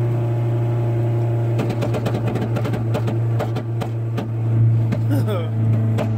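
An old wagon's engine running after an oil change with 10W40 and engine restore, giving a steady, loud low hum with irregular ticking and knocking over it, and voices talking nearby.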